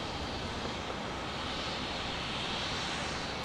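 An Airbus A330 airliner at Fort Lauderdale International Airport makes a steady, broad jet-engine roar heard at a distance, with no voices.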